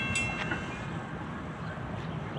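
A train approaches a station with a steady low rumble and rolling rail noise at moderate distance, with faint high squeals from the wheels near the start.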